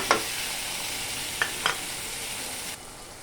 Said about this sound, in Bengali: আমি সুন্দর করে মশলাটাকে কষিয়ে নিব